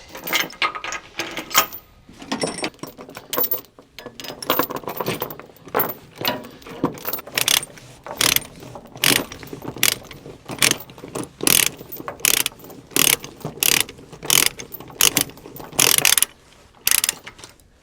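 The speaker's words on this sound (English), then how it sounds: "this is how I do, how I loosen that style binder, and I find that it works pretty fast like that" Ratchet load binder on an equipment trailer being loosened, a loud series of rapid metallic clicking ratchet strokes in bursts that grow more regular and quicker toward the end, close by with no talking.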